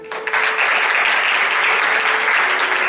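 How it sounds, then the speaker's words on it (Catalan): Applause fills a theatre at a musical performance, a dense, steady roar of many clapping hands heard close and loud, with no break throughout. "Un fort aplaudiment per ella."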